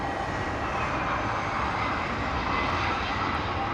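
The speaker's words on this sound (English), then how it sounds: "Here is our Iberia A320neo." Iberia Airbus A320neo arriving at London Heathrow, a continuous loud engine roar with broadband wash, steady and close throughout with no speech.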